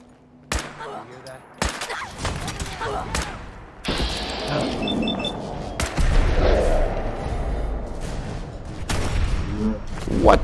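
Gunfire in the Fallout 4 video game, heavily modded, with sharp shots and bursts recurring over a dense, loud, continuous combat backdrop that builds through the clip.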